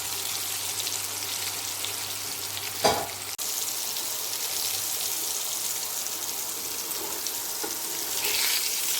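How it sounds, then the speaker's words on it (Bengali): Pointed gourd (potol) pieces fry in a pan with a continuous bright crackling sizzle, briefly interrupted by a clatter of stirring before the hiss settles back to a steady level. "পটলটা খুব ভালো করে ভাজা হয়ে গেছে লাল লাল করে"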